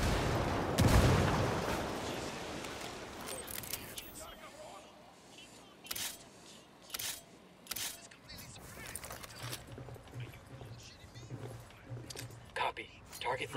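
A grenade blast followed by gunfire in Ghost Recon Wildlands: a thudding explosion near the start, then scattered sharp shots and cracks spaced through the rest, with voices talking underneath.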